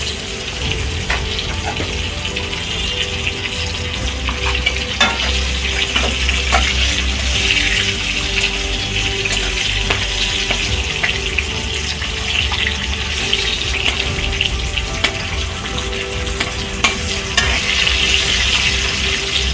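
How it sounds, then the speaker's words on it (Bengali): Pointed gourd (potol) frying in hot oil, a loud, dense, continuous sizzle and crackle close by, with scattered sharp pops and spatula scrapes throughout and no talking. "পটলগুলো একটু লাল লাল করে ভেজে নিয়ে তুলে রাখবো।"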